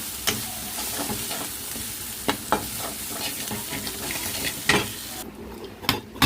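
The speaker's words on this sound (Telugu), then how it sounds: "తాలింపు అయితే బాగా వేగింది కదండి" Tempering spices with turmeric fry in a pan, giving a loud, continuous sizzle close up, with scattered scrapes and clicks of stirring and no speech.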